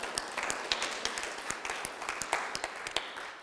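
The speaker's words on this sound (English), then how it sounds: "Let's give them a round of applause." Audience applause at a coffee-and-coaching cycling gathering, a dense patter of many hands clapping at moderate distance, steady and fairly soft throughout with no voices on top.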